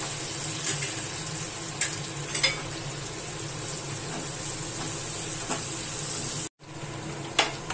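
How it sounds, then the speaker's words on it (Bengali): Onions frying in a pan give a steady moderate sizzle with occasional spatula scrapes and clinks, plus a brief cut near the end. "পেঁয়াজটা একটু ভাজা হোক, পেঁয়াজটা ভাজা হলে তারপরে আমি আদা বাটা আর মশলা দেবো।"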